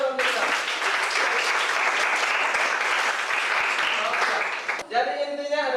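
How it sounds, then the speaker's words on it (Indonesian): Classroom applause during a physical education lesson in Ambon, loud, dense clapping from a group of students lasting about five seconds, then cutting off as a voice resumes speaking. "Tepuk tangan dulu untuk kita"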